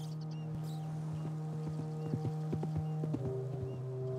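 Horse hooves clip-clopping at a steady gait in Red Dead Redemption 2, with a brief whinny, over a low steady engine-like drone.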